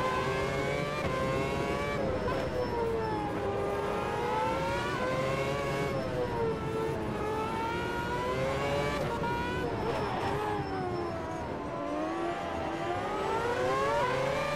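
Open-wheel Formula-type racing car in the sim game Automobilista 2 lapping the tight streets of Monaco, its high-revving engine whining steadily up and down through gear changes, loud and continuous throughout.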